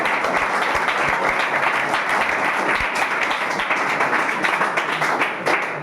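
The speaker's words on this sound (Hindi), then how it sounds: "जोरदार तालियां" An audience at a class 10 quiz competition bursts into loud, dense applause that stays strong and steady from start to finish.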